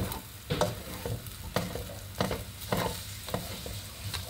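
Raw egg fried with rice in a pan, a soft steady sizzle punctuated by regular scraping strokes of a spatula stirring the mixture, close and fairly quiet.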